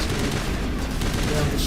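Dense automatic assault-rifle fire from a Mass Effect battle, a continuous rattling burst of rapid shots that stays loud and steady, with a faint voice mixed underneath.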